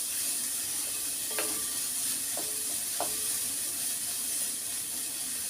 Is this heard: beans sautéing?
yes